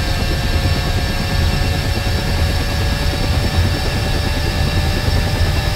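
A UH-60M helicopter engine spinning up during startup in a flight simulator, a loud, steady turbine roar and whine with constant broadband rumble throughout, no voices.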